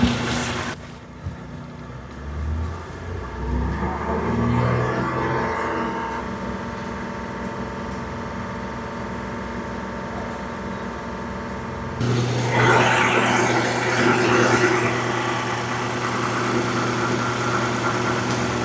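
A car engine idles steadily, then is revved up and held at about 2500 RPM during an alternator charging test, the hum rising noticeably in loudness and pitch partway through, close and continuous.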